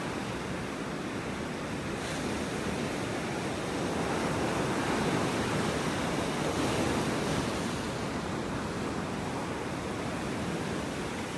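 Ocean waves at high tide on a beach in North Naples, Florida: a steady, broad surf wash that swells and recedes, with light wind noise and no talk.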